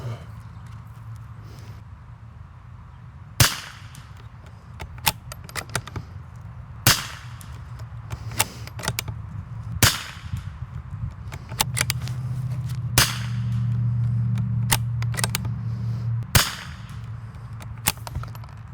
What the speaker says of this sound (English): we'll warm the barrel up with this Federal, see how it shoots